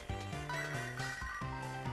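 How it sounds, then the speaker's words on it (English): In the Pokémon HeartGold video game, a phone rings as a chiptune tone pattern, repeating in short bursts over the game's background music. "And the phone rings."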